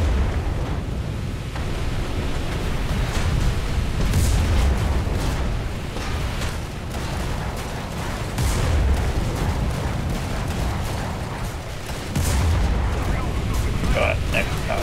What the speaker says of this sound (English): let's just detonate this torpedo